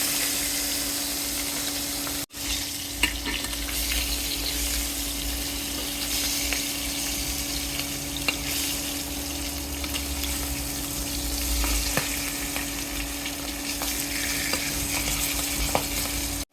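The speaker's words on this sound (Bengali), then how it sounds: "সবগুলি মাছ ভেজে নিলাম" Pieces of fish fry in hot oil with a steady, close broadband sizzle and crackle that runs unbroken through the whole stretch, with no voices over it.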